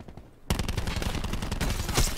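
Rapid gunfire rattles in Black Ops 4 hardcore mode: after half a second of quiet, a dense, loud stream of automatic shots bursts in and keeps going, with a sharper crack near the end.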